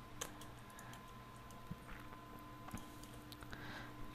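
A few light computer keyboard keystrokes, such as a Control Backspace press, click faintly and sparsely in a quiet room, with no talking.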